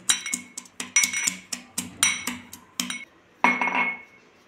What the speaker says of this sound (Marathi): तर आपण लसूण पाकळ्या पहिल्या प्रथम खलबत्त्यात घालून ठेचून घेऊया.